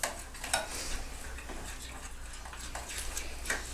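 Melted chocolate chips and peanut butter chips being stirred in a bowl fresh from the microwave for peanut butter fudge, giving faint scraping and occasional light clinks of a utensil against the bowl over a low hum.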